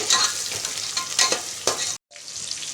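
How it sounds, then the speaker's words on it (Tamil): Potatoes and onions fry in hot oil in a pan, a steady hiss with scraping stirs at regular intervals, briefly cutting out before the sizzle resumes. "ஆட் பண்ணி உருளைக்கிழங்கு நல்லா அதுலேயே கொஞ்சம் ஃப்ரை ஆகட்டும் அந்த எண்ணெயிலேயே"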